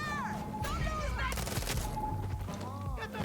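Gunfire in the shooter game Far Cry 6, with a short rattling burst of shots in the middle amid other game noises, while a voice talks.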